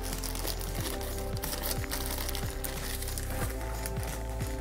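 Packaging of The Original Super Sand kit by Goliath being opened, producing continuous close crinkling and rustling of plastic and cardboard with repeated soft tearing scrapes, under a constant background of music.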